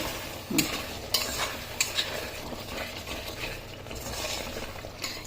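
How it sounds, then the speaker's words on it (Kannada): Ingredients for mushroom biryani frying in a pot while being stirred, with a soft background sizzle broken by repeated scraping and clinking strokes of a spoon against the pot at irregular intervals. "ಇದೊಂದು ಸ್ವಲ್ಪ ಫ್ರೈ ಆಗಲಿ"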